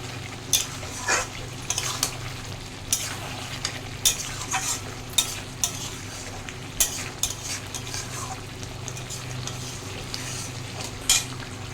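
Potatoes and potol fry in a pan while a utensil stirs them, producing a steady soft sizzle broken by regular sharp scrapes and clinks of the spatula against the pan.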